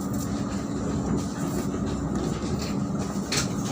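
A train rumbles loudly and steadily while arriving at Yogyakarta station in Indonesia, with a dense low roar and faint rhythmic rail clatter throughout.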